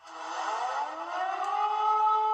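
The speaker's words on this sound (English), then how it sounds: "video of emergency sirens blaring" A siren wails steadily, its tone slowly rising and swelling in loudness over a couple of seconds, with no voices present.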